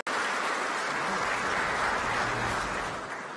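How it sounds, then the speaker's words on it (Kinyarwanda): Steady, dense applause from an assembled audience for newly sworn-in senators, continuous and fairly loud throughout, with no break. "tubahe amashyi"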